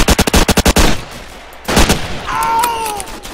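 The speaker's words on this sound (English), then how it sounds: "That PPSH fire helps us so much." Rapid bursts of PPSh submachine gun fire in the Roblox World War II game Ostfront, a loud, fast string of close shots that stops, followed by another short burst and a fading whine.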